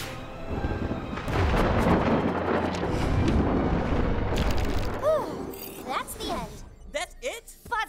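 Thunder rolls across a stormy planet in a cartoon, a loud, sustained rumbling boom that fades into swooping, whistling effects, with no speech over it.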